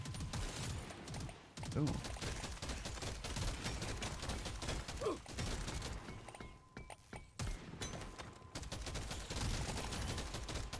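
In the video game Deep Rock Galactic: Survivor, gunfire rattles in dense, rapid bursts with few breaks, loud and continuous, while a voice briefly exclaims over it.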